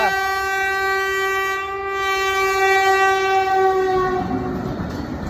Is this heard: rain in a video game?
no